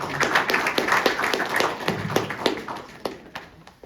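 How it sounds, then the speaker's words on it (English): An audience at an evening presentation claps to welcome a speaker to the stage. The claps are distinct and close, with a lively uneven rhythm from a modest crowd that gradually softens. "please take a round of applause for her"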